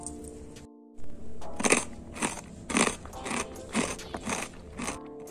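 Crunchy fried tapioca sticks are bitten and chewed close up, giving a run of about eight sharp, crisp crunches in an uneven rhythm, loud against a quiet room.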